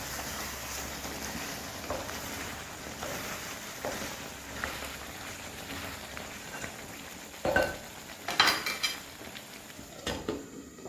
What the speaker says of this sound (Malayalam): ഇടയ്ക്ക് തുറന്നൊന്ന് ഇളക്കി കൊടുക്കുക.